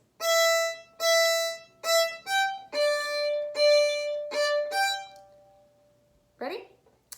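Bowed string instrument playing the opening two phrases of Minuet 2, a sequence of clear sustained bowed notes in a steady rhythm, close and alone, ending with a short spoken word.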